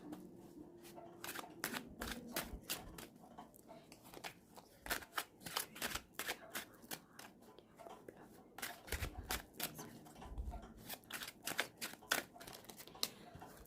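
Tarot cards being shuffled, with a steady run of crisp riffling flicks and soft slaps, close and fairly quiet, with a voice talking faintly at times.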